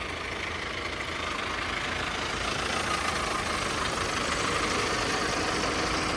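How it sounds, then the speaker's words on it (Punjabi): A 2012-model Arjun 605 DI tractor with a turbo holds a steady, loud, close diesel engine roar throughout, with no voices. "ਰੇਸ ਮਾਰੀ ਲੋ ਜੀ ਬਾਈ 12 ਮਾਡਲ ਅਰਜਨ 605 DI"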